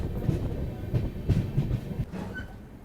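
The Lucknow Mail train rattles on the rails as it pulls out of Bareilly Junction, with a steady low rumble and rhythmic clacking heard from inside the carriage.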